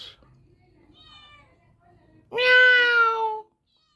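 A kitten gives a single loud, drawn-out meow up close, after faint high squeaks in a quiet room.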